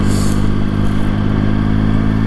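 Motorcycle engine with a newly retuned aftermarket exhaust, running loud and close in one continuous throaty rumble that rises slightly, smooth rather than lumpy, with no voices.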